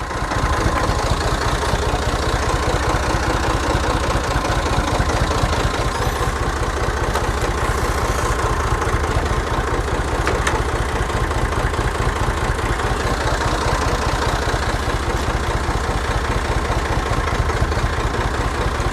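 A tractor engine idles steadily with a low, throbbing rumble and faint knocking, running continuously at a constant level with no talk.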